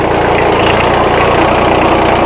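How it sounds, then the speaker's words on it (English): A Kubota L225 tractor's engine runs at raised RPM as the clutch is released to creep away in low first gear, a steady loud diesel drone close by with no talk. "we're going to release the clutch and the tractor is going to go"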